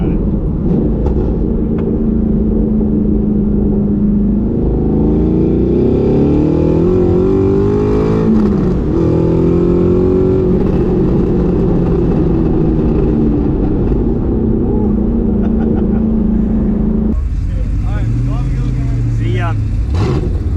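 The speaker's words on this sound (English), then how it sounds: "you're gonna have to wait for the turbo to spool up here, so get in it early." Turbocharged 400HP Mazda Miata accelerating hard on a canyon road, a loud steady engine drone rising in pitch through the gears with a shift near the end, heard from inside the car.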